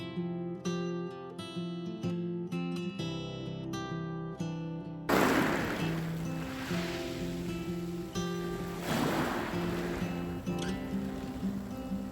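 Sea waves wash in on a snowy Brighton beach, rising as a broad, rolling surge after a few seconds while music plays throughout.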